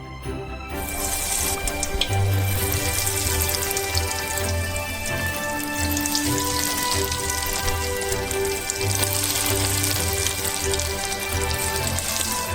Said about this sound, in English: And we deep fry our potato croquettes.